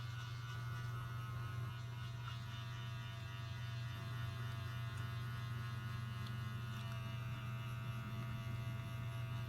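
An AcneFree Sonic cleansing brush runs on its high setting, giving a steady, close electric hum and buzz that continues unbroken throughout, with no talk.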